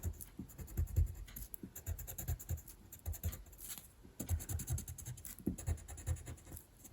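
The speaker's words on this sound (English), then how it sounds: "I'm going to take this yellow pencil and I'm going to fill in the tops of the wheat." A yellow colored pencil scratches steadily across paper, pressed hard to fill in the tops of drawn wheat on a sequence card, giving close, continuous strokes with a short pause midway.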